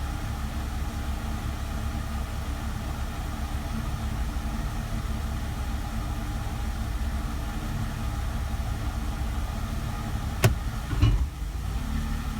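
A Mercedes SLK 320 idles steadily after a valve body reinstall, a low continuous engine hum close by, broken near the end by a short clunk as the transmission is shifted into drive.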